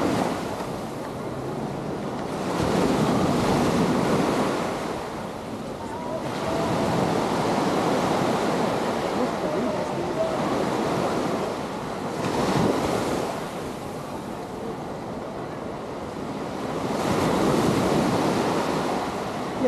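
Surf rolling onto Waikiki Beach, with broad swells of crashing waves building and fading every few seconds, joined by steady wind rumble on the microphone and no talking.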